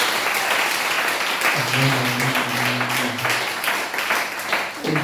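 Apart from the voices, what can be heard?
congregation applauding and cheering in church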